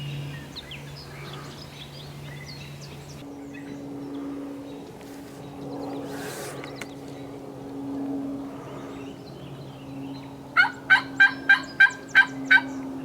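A wild turkey gobbles back at a call during a spring hunt in Canada, a quick rattling burst of six or seven loud pulses near the end after a long stretch of quiet outdoor background.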